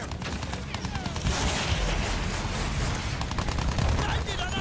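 Rapid gunfire from the Battlefield 1 video game, a dense, loud fusillade of overlapping shots and bursts that continues for the whole stretch with no talking.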